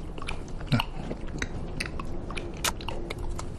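Food is chewed and bitten at a dinner table, with close, soft crunching and mouth sounds across a quiet room, plus a sharper bite or clink near the start and a brief clack later.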